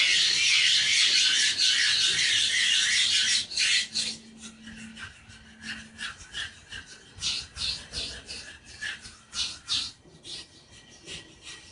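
A glass surface ground by hand with abrasive, a harsh rasping scrape at first, then rhythmic back-and-forth strokes, close and alone.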